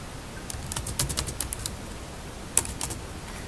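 Fingers tap out a password on a computer keyboard in two short quick bursts of soft, close clicks, separated by a brief pause, in a quiet room.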